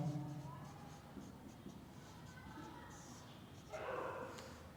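Chalk or marker scratching on a board during a physics lesson on solenoids and bar magnets, a faint intermittent scraping under a teacher's voice and room noise.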